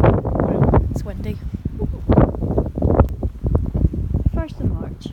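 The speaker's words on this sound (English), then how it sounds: "It's windy." Gusty wind buffeting during a heavy snowstorm on the first day of spring, with rumbling bursts against the microphone, continuous and loud, with a voice partly mixed in.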